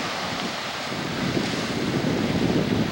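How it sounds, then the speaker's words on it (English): Ocean waves surging and crashing along the shore by a lighthouse, with islands offshore; a steady, loud roar of surf mixed with wind buffeting the microphone, swelling slightly stronger partway through, no voices. "Wow, look at those waves."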